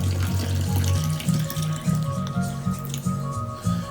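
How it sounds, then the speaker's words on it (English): Water poured from one glass into another, heard as a short, steady splashing gurgle with a bubbling, rhythmic texture, close and moderately loud. "Water was able to make it from this glass to this glass."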